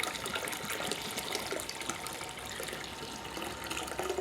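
Water being dumped into a wine kit must bag during primary fermentation of a Winexpert Eclipse Shiraz kit, a steady splashing gush of liquid pouring continuously at close range.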